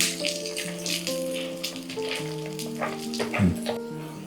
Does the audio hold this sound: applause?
no